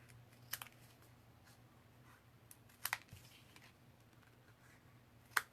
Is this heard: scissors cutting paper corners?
yes